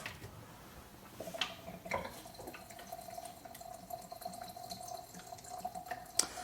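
100 proof vodka poured into a bottle of elderberries for tincture, a thin, steady trickle of liquid rising in pitch as the bottle fills, with a few faint clinks of glass, fairly quiet and close.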